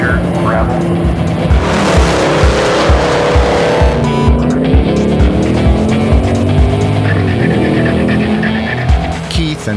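Rally car driving flat out on a gravel stage of Targa Newfoundland, engine roaring loud and close throughout with revs rising and falling through gear changes, tyres scrabbling on loose surface, a co-driver's voice calling notes under the noise.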